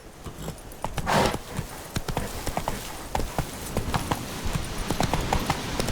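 Horse hooves on the road in The Witcher 3: Blood and Wine, a steady fast clip-clop of galloping hoofbeats, close and continuous for six seconds.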